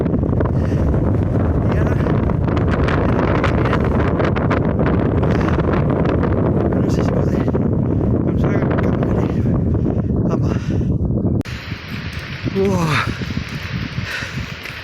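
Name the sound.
strong wind blowing into the microphone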